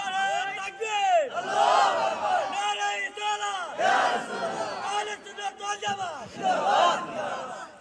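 A large crowd at an Islamic sermon gathering shouts takbir in unison, loud, overlapping bursts of many voices swelling and falling in waves, with no single speaker standing out.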